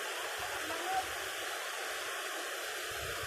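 Steady broadband rush of water pouring down a waterfall at a scenic rural spot, continuous and fairly even for the whole stretch, with no talk over it.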